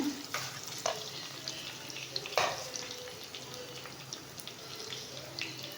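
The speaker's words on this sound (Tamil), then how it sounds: "நல்லா வதங்கட்டும்" Garlic sautéing in a pan for garlic thokku gives a soft, quiet sizzle. A few clinks of stirring cut through it, and a faint voice is heard now and then.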